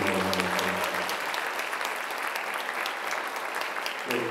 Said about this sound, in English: Also, a big round of applause for our faculty sponsors, Ms. Chelsea Kite, Ms. Brianna Bjerke